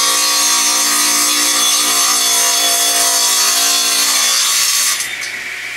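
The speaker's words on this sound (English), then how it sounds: "So we're going to trim this end off, and it's going to make some noise" A power saw grinds steadily through the end of a laminated woodturning blank, loud and continuous for about five seconds before the cut finishes and the noise drops away.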